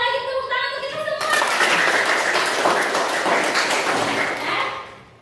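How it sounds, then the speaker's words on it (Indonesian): Applause from a class of students, starting after a brief tonal sound and filling the room with steady clapping for several seconds before tapering off; voices mix in underneath. "Sekali lagi tepuk tangan untuk kita semua."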